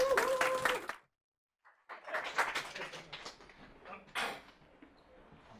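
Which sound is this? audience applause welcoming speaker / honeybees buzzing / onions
audience applause welcoming speaker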